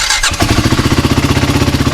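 BSA Gold Star 650 motorcycle fitted with a stainless rocker exhaust cranks briefly on the electric starter and fires up, settling at once into a loud, steady, close-up thumping idle.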